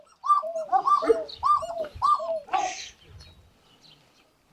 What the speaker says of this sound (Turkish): Nasıl ötüyorlar ya? Bunlar Sivas kumrusu